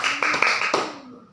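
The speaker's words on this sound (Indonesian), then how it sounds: "Baik, tepuk tangan untuk kelompok 2." Brief scattered clapping from a classroom of students applauding a group after a presentation on flora and fauna distribution, a few claps fading out within a second with some faint voices.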